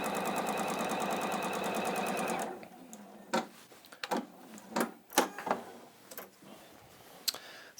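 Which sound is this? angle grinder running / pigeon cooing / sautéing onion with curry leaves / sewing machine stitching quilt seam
sewing machine stitching quilt seam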